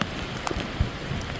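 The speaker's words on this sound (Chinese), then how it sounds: "大雨不停，积水不退" Heavy rain pours during Typhoon Gaemi in Taiwan, a steady dense hiss of water on surfaces with a couple of brief low thumps, moderately loud and without voices.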